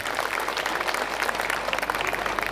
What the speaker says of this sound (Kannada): ನನ್ನ ನೆಚ್ಚಿನ ಗುರುಗಳಾದಂಥ ಪ್ರೊಫೆಸರ್ ಕೃಷ್ಣೇಗೌಡ ಗುರುಗಳಿಗೆ ಒಂದು ಜೋರಾದ ಚಪ್ಪಾಳೆ ಬರಲಿ